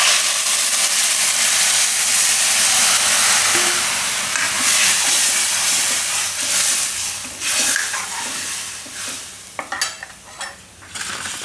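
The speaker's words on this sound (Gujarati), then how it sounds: "હવે આ જે મસાલો આપણે તૈયાર કર્યો એ એમાં નાખી દઉં." A prepared spice mix hits a hot tempering of curry leaves and asafoetida for Gujarati vaghareli rotli and bursts into a loud, bright sizzle. The sizzle eases gradually, broken by stirring scrapes and clatters toward the end.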